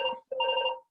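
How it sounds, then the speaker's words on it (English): A phone rings close by with a bright electronic ringtone, two tonal bursts separated by a short gap, loud and clear with no talk over it. "One second, phone's ringing."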